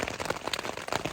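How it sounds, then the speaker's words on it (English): Rain falls on a campsite near Chicken Spring Lake along the John Muir Trail in the afternoon, a dense, even patter of drops hitting nearby surfaces, close and steady with no voices. "Rain."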